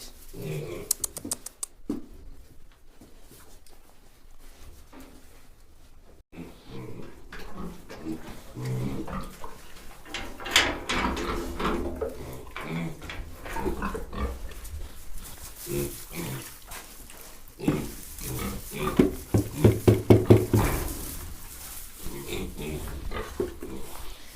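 Piglets grunt and squeal in short, scattered bursts at close range, with people talking over them and the noise growing busier toward the end.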